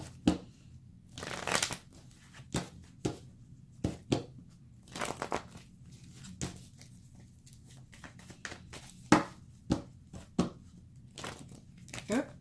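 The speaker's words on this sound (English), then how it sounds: "one more shuffle, they say" Playing cards being shuffled in repeated riffles and quick flutters, close and crisp, with brief pauses between bursts.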